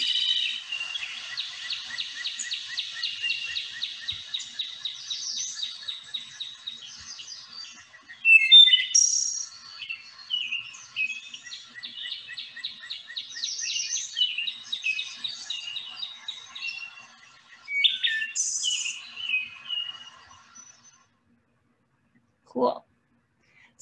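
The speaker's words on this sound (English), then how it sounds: "we're going to use the wood thrush as our teacher today. And here we go, we're gonna listen to its song" A wood thrush sings repeated fluting, ringing phrases with trilling endings, clear and fairly close, followed by a brief pause and a faint click.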